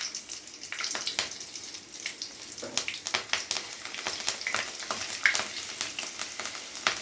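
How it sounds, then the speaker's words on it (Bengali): Black cumin seeds and slit green chillies sizzle in hot oil as a tempering for a prawn dish cooked in taro leaves, with close, crackling bursts and sharp pops over a steady hiss. "এবারে তেলের মধ্যে দিয়ে দেবো ফোড়নের জন্য কালো জিরে আর দিয়ে দেবো"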